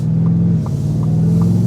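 A 2023 Ford F-150 Raptor R with its V8 gives a loud, steady low rumble from inside the cab, holding a deep droning tone with a few faint clicks over it and no talk.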